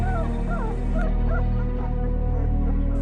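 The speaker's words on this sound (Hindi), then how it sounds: "एक कातर कराह के साथ कुत्ते की आवाज थम जाती है।" A dog whimpers and yelps in a string of rising and falling whines over a steady low drone, used as a sound effect in a spoken horror story.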